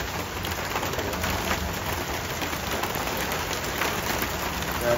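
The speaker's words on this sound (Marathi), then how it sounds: "जोरात आहे पाऊस." Heavy rain pouring down in a steady, dense hiss, close and unbroken from start to finish with no voices.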